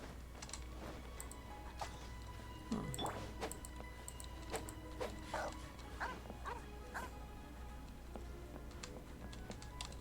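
Dogs in the Genshin Impact video game give a few short barks and yips, scattered through a steady game soundtrack with faint clicking of keys.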